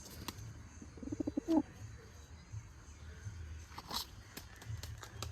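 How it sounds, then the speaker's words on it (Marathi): A pigeon coos softly in a short burst of low, rolling notes, fairly faint, followed by light scuffs and quiet background sounds. "हे बघा आणि नवीन कबूतर आहे"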